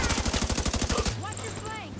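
Heavy automatic gunfire in the video game Division 2 rattles in a rapid, loud burst for about a second. It cuts off into ringing, electronic game effects.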